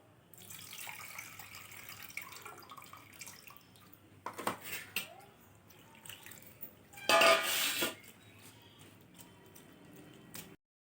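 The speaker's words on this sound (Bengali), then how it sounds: "3-4 বার ধরে জল পাল্টে পাল্টে ধুয়ে নেব।" Flattened rice (poha) is washed in water in a kitchen, with faint swishing and trickling, a few louder splashes and a brief burst of pouring water near the end, all fairly quiet and close.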